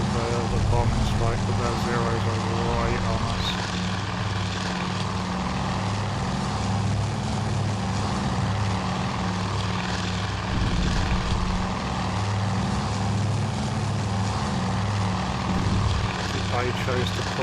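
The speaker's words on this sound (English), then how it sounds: "My planes are trying to manoeuvre into position for the bombing strike, but their zeros are right on us." Propeller warplanes, bombers and Zero fighters in the Task Force Admiral carrier-battle game drone steadily with engine roar and scattered bursts throughout, under continuous talk.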